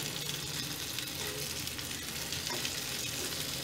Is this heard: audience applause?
no